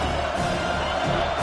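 A stadium crowd at a football game roars in a steady, dense wash of cheering and noise on a crucial fourth down, loud and continuous throughout with no distinct voice standing out.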